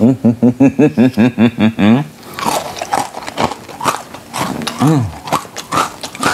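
Crunchy homemade eggless cookies are bitten and chewed up close, a rapid run of sharp crisp crunches followed by softer chewing and brief chuckles.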